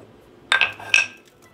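A metal plate being set down beneath covered paneer, two quick close metallic clinks about half a second apart, then quiet.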